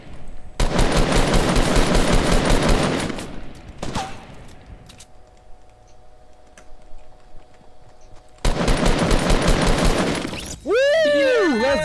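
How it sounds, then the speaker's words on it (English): Rapid automatic assault rifle fire in the video game Fortnite rattles in two long sustained bursts separated by a quieter lull, followed by a rising electronic game sound effect at the end. "Assault rifle, assault rifle."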